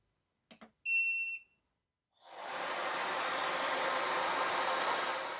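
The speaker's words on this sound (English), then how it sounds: "So right here I have my wife's hair dryer." A hair dryer running off a portable power station switches on after a few short beeps and a steady alarm-like tone, then blows a loud, constant broadband hiss of airflow.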